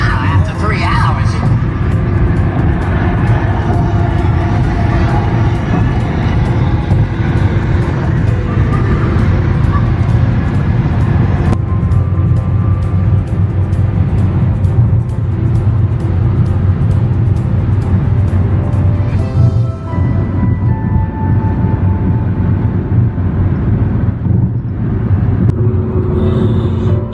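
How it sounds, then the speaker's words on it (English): Steady engine rumble and road noise from inside a car on a long road trip, loud and continuous, with people talking over it. "We're still driving."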